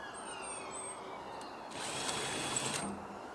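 A power drill whirs through the wood of a bonsai bench, punching holes in a short burst that rises for about a second, fairly quiet and alone against a faint background hiss.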